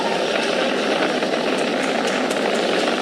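A SpaceX Falcon 9 rocket climbs during launch ascent, its engines a steady, distant, dense roar with no breaks or voices.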